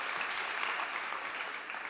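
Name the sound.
audience applause for Maria Kardakova from iCook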